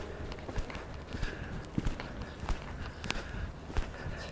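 A horse's hooves clip-clop steadily on the ground during a riding exercise, a regular rhythmic beat of moderate loudness over a continuous background of ambient noise.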